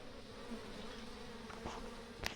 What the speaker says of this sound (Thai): พึ่งงานก็บินวนแล้วครับ